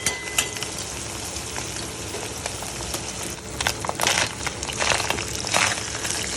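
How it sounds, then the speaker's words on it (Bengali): Kachki fish frying in a pan, a dense continuous sizzle with scraping and stirring clinks of a utensil against the pan, close up and steady, without talk. "এবার বেশ ভাজা ভাজা হয়েছে,"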